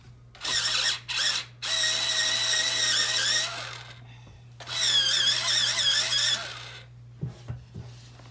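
A colored pencil grinds in an electric sharpener in two whirring bursts of a few seconds each, close and clear, with short pauses and small clicks between them.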